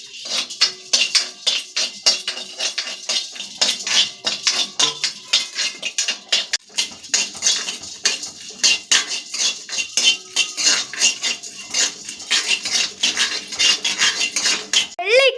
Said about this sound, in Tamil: கடலையும் முந்திரி பருப்பையும் வறுத்தாச்சு.